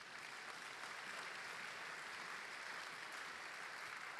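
A church congregation applauding, dense continuous clapping that fills the room at an even level from start to finish.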